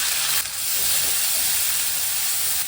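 Grated onion fries with nigella seeds in hot oil after fish has been fried in it, giving a steady, loud hiss and sizzle close by throughout, with no talking.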